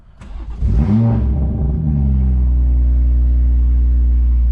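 A BMW M240i engine cranks and fires up with a short rev, then settles into a loud, steady low rumble close by.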